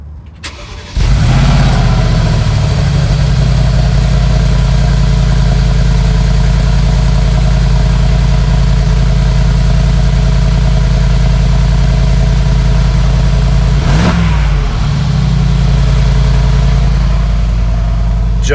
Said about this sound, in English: the other thing that everybody loves about the G-Wagon is the sound